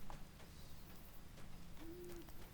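A bird calls in a video game: a soft hooting coo rises briefly near the end over a faint, steady ambient bed, with no voices.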